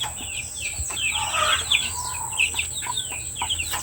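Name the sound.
two-month-old chicks clucking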